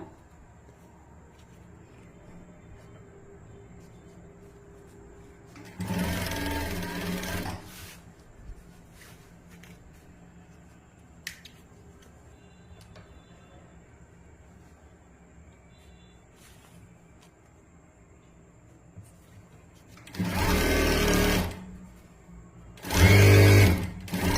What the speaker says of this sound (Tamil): அவ்வளோதான், ஸ்டிச் பண்ணிட்டேன்.